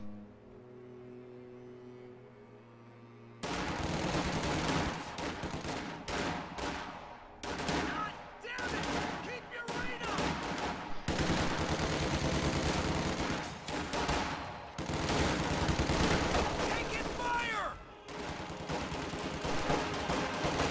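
An MG42 machine gun fires in long loud bursts in a World War II strategy game, with other gunfire crackling around it and brief pauses between the volleys, and no voice over the shooting.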